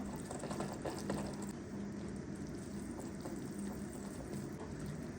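Gypsum mixture poured into a mould for a homemade vase or tray, a close, steady wet splashing and trickling that runs continuously without a break.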